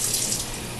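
Cold water runs from a kitchen sink tap in a steady, close, loud rush of splashing that stays even for the whole brief moment, with no talk.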